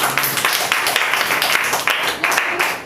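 Congregation clapping at a fasting prayer sermon, a loud, dense run of rhythmic handclaps filling the room throughout.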